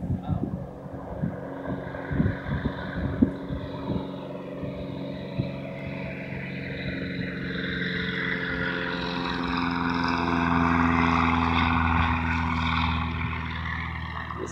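A steady airplane engine roar builds and swells as a floatplane accelerates across Raquette Lake, with wind buffeting the microphone throughout.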